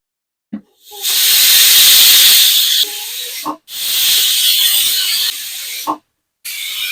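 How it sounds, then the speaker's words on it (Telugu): A pressure cooker on a stove, cooking spinach dal, lets out two long, loud hissing steam whistles lasting a couple of seconds each, close by, with a brief clatter between them and at the end. "మూడు నాలుగు విజిల్స్ వచ్చాక స్టవ్ ఆఫ్ చేసుకుందాం"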